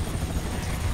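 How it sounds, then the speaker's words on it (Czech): Helicopter rotor thumping in the video game Gears of War Ultimate Edition, a dense, loud low-pitched chopping roar filling the whole moment. "Vrtulník to tady pokropí pěkně."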